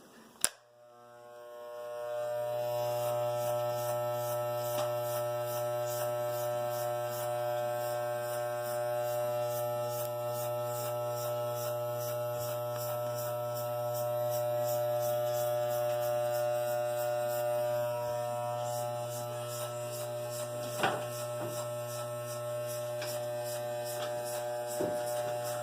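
Electric hair clippers with a 1/16 green attachment fading a man's hair, a steady loud mains-pitched buzzing hum that switches on and runs unbroken, with small clicks and shifts as the blade moves through the hair.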